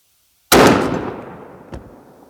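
A single loud, close shotgun blast from an ATA turkey shotgun fired outdoors, sharp onset and a long decaying echo, followed by a faint secondary thud.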